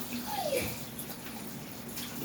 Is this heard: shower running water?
yes